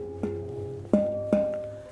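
A handmade steel handpan rings out with three soft, resonant strikes, each leaving a sustained metallic tone that hangs over a faint background hum.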